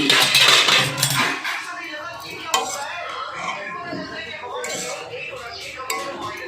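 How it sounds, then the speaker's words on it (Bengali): A lid lifted off a cooking pan of potatoes and leafy greens, a loud metallic clatter at the start followed by lighter clinks and scraping as the pot settles, with a voice talking over it. "এবার আমি ঢাকনাটা খুলে নিচ্ছি"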